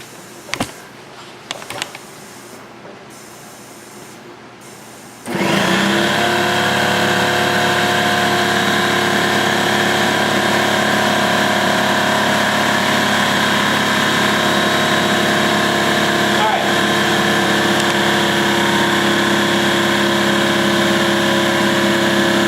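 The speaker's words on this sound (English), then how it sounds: "So we're going to use this to inflate our spare." A portable air compressor inflates a car's spare tire from about 40 to 60 PSI, switching on after a few clicks and then running with a steady, loud mechanical drone and buzz that holds unchanged for over fifteen seconds.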